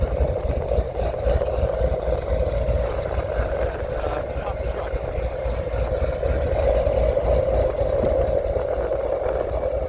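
A steady engine drone from a supercharged 2016 Corvette Z06 with a throaty exhaust note, running continuously for about ten seconds, fairly loud and close.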